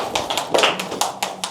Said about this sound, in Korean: 우리 백여 선생님 큰 박수로 좀.